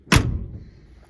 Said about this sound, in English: Listen to the door.